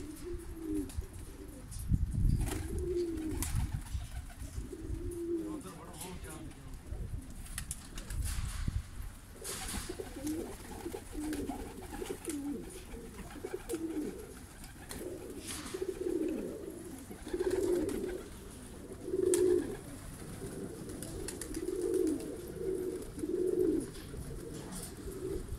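Pigeons coo steadily in repeated soft, rolling phrases close by, with several birds overlapping through the whole stretch as they are released from a new net cage.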